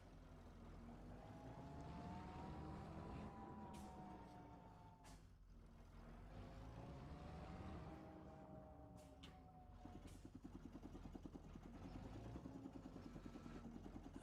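Bale shredder running in the Farming Simulator 25 video game, a chugging mechanical drone with rising and falling pitch that settles into a rapid rhythmic pulsing toward the end, steady and moderately quiet.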